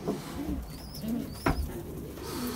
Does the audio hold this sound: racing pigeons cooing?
yes